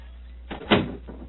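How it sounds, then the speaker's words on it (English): A wooden door to a monastery cell swings shut with a single muffled thud, preceded by a soft scrape of movement, close by in a quiet room. "Please close the door behind us."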